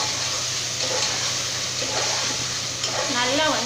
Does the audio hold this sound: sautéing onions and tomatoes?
yes